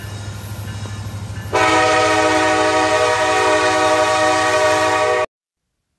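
A freight train rumbles close by, then a loud sustained horn blast begins partway through and holds over the rolling train noise before the sound cuts off abruptly.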